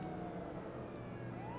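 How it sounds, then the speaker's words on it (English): Police sirens wail faintly in the distance of the GTA 5 street world, a soft continuous tone under low background rumble. "I can hear sirens going on"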